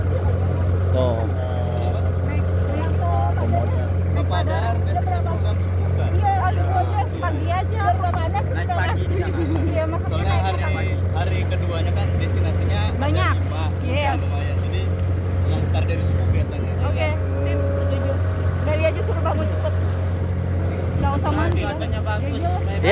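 Steady low drone of a boat engine running throughout on a boat trip from Labuan Bajo toward Komodo Island, with people chatting in the background over the motor.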